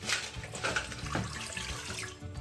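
Water is poured from a tap into a cooking pot for pasta in a kitchen: a steady, close, rushing and splashing stream that runs on without a break, fairly quiet, with no talk over it.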